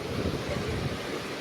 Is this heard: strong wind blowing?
yes